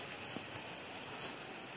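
Heavy monsoon rain falls steadily at a home, a dense, even hiss with faint patter, continuous and uniform throughout.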